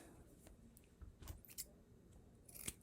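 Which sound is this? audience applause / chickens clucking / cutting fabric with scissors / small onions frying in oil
cutting fabric with scissors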